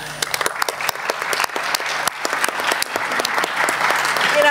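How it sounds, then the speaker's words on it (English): Conference audience applauding: a sustained burst of claps of varying sharpness from a sizable crowd, steady and fairly loud throughout, with a few voices underneath. "A big applause."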